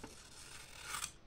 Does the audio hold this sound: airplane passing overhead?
no